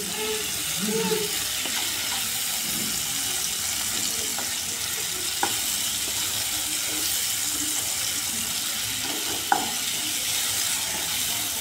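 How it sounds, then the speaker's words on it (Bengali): Spice paste sautéing in a pan for dal, a steady broadband sizzle with soft stirring, a couple of sharp clinks from a utensil against the pan, no talk over it. "এদিকে আমার কষানো হচ্ছে মশলাটা, আর একটু কষানো হবে"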